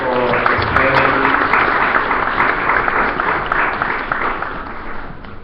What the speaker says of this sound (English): let us give another round of applause for Mrs.